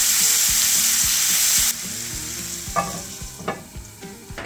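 Ground meat and onions fry in a pan for a hamburger pie: a loud, steady close sizzle that drops to a softer level partway through, with scattered scrapes and clinks of stirring.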